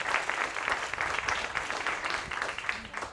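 Sustained, dense applause from an audience at a company restructuring announcement, steady and fairly loud throughout with no voices rising above it.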